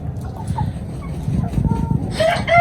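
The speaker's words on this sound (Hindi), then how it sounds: "ये देखिए मुर्गा" A rooster on a rooftop poultry setup clucks softly amid low background rumble, ending in a brief louder call close by.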